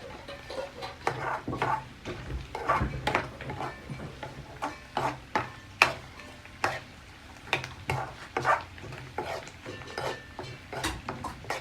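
Chicken pieces frying in a pan, with a steady sizzle under repeated scraping and stirring clicks of a utensil against the pan, fairly close and continuous with no talking.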